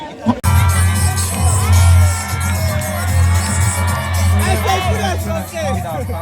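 A large crowd of students on a college campus screams and cheers loudly and continuously, with whoops and shouts blending into a sustained roar after a sharp bang at the start.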